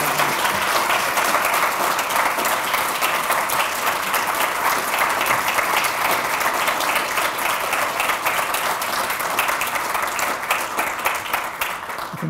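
Sustained audience applause after a prize lecture in a hall, a thick, even wash of many hands clapping that holds steady for a long stretch before easing slightly at the end.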